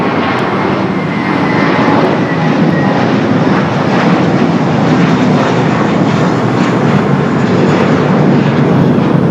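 United Airbus A321neo arriving from O'Hare and landing on runway 25 right at Los Angeles airport, a constant loud broadband jet rumble and rush that stays steady and close, with no voices.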